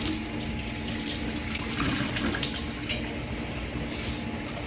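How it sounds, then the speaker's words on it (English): Water being poured out of glass canning jars into a kitchen sink, a steady close splashing and gurgling stream with no talk. "I'm gonna actually dump the water that's in them, not back in the pot"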